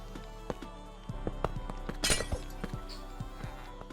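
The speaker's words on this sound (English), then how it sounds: "I just heard glass shatter, but there's no glass missing." Glass shattering in the Minecraft video game: a bright, brief crash-and-tinkle burst near the middle, set among scattered clicks and soft game noises.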